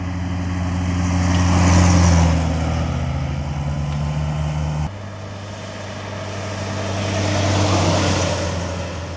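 A 1966 Russian GAZ-69M running down the highway at nearly 60 mph, its engine droning loudly with a low hum and rushing wind that swell and ease, a brief shift in tone partway through, no talking.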